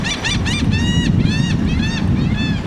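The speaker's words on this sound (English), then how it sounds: "seagulls" Seagulls cry repeatedly in quick, bright call sequences over steady wind and low rumble along a seaside boardwalk, the birds fairly close and distinct above the background.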